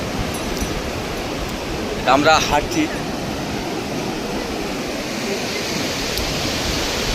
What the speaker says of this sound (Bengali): হেভি সুন্দর ঢেউ উঠছে